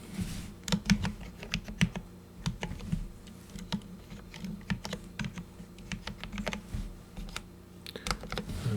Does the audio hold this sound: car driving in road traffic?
no